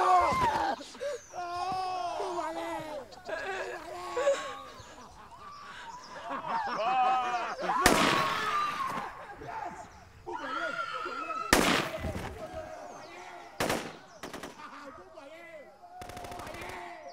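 Soldiers' gunfire in a battle: sharp, loud cracks and short bursts scattered through the clip, mixed with raised voices and shouting.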